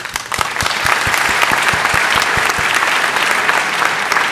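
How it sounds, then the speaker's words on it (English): A large audience gives a sustained round of applause for award winners at a ceremony, dense steady clapping at even loudness throughout, with no talk over it. "I would like to ask you to give one last round of applause to our very worthy"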